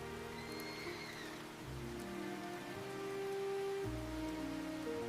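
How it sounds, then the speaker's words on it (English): Steady rain patters on surfaces outside a village bakery in the early morning, an even, continuous wash of drops with a low rumbling undertone and no voices. "while the rain continued to fall"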